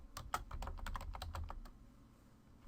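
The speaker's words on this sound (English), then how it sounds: "I'm just going to type book title in here" Someone types on a computer keyboard, entering text into a Word document. Quick, close, fairly quiet key clicks come in an uneven run, then stop partway through.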